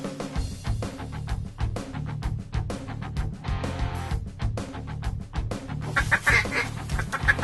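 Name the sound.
ducks quacking at a hunting spot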